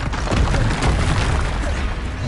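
A Confringo blasting spell explodes in the Hogwarts Legacy video game, a loud, sustained rumbling boom with crackling debris filling the whole moment, heard alone without talk.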